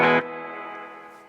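A guitar chord played through a Yamaha THR30II amp's spring reverb: a short, bright distorted strum cut off quickly, leaving a metallic, echoing spring tail that fades over about a second.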